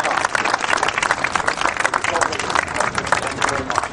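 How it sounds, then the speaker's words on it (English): A round of applause from an audience at a commemoration ceremony, dense rapid clapping held at an even level throughout the clip. "Round of applause for Mr."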